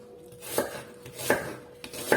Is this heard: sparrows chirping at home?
no